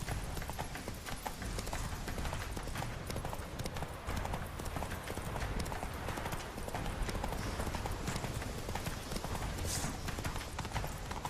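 Roach, the horse in the video game The Witcher 3, gallops with dense, continuous hoofbeats at a steady pace, loud and close, with faint voices occasionally mixed in.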